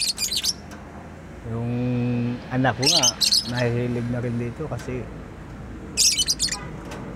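A pet bird chirps and squawks in a home, bright tweets and calls in short bursts, close and fairly loud, with a person talking between and around them.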